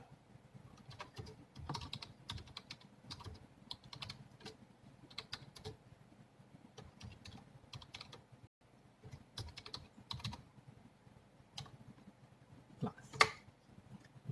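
HTML code is typed on a computer keyboard, soft irregular clicks and key taps running steadily with brief pauses, close and quiet, with no talk.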